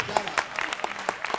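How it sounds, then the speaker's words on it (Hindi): A college poetry-recital audience breaks into brief applause, scattered claps rising and falling for a moment, with a voice speaking over them. "आशीष पांडे की तालियां आशीष के लिए बजा दो"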